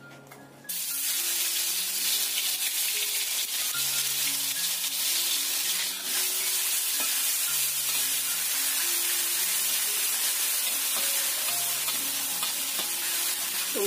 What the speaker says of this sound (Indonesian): Kita tumis dulu bumbunya sampai wangi.